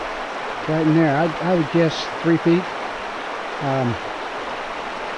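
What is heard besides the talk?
shallow river flowing, Chattooga River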